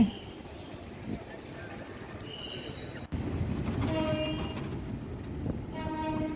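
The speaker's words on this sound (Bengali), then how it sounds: "কদমতলি রেল ক্রসিংয়ের একটি ট্রেন যাচ্ছে ক্রস করে" A train rumbles past nearby through a railway crossing during cyclone rain in Chittagong, its horn sounding in harmonic blasts over the steady roar of the wagons.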